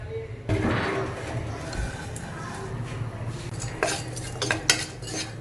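Lumps of asafoetida roast in rice flour in a pan over a low flame, with scraping and clinking of a metal spoon against the pan and light crackling throughout, a few sharper knocks near the end.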